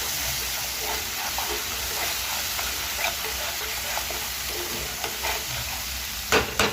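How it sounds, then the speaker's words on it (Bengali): Thick gravy for potol kalia, with oil separating, is stir-fried in a pan: a dense, loud, continuous sizzle and hiss with repeated scraping strokes and a couple of sharp clanks near the end. "গ্রেভিটা হবে, গ্রেভিটাতে তেল বেরিয়ে এসছে, এটাকে ভালো করে কষতে হবে"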